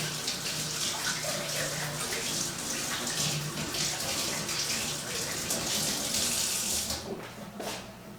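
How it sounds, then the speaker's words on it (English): Fingers rinsed under a running kitchen tap while making veggie burgers, a steady, close, full gush of water that lasts several seconds, then tapers and sputters as the flow is cut. "I'm gonna rinse my fingers"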